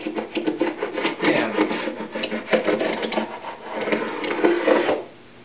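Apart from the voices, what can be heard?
carbide scraper removing glue bumps from maple veneer plywood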